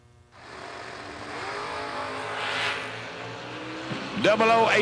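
Drag race cars, one a Camaro, launch from the starting line with a rising engine roar that swells and fades over a few seconds, followed by a sharp burst of high-pitched noise near the end.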